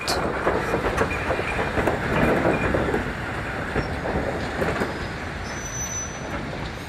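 A 1950s steam train runs along a railway line on a climb, its wheels clattering rhythmically over the rails with occasional squeals, a steady, fairly loud rolling rumble with no talk.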